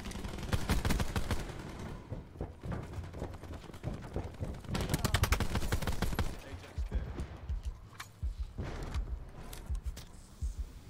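Rapid automatic gunfire from a Call of Duty match, dense bursts of shots hammering almost continuously with brief gaps, someone talking over the action.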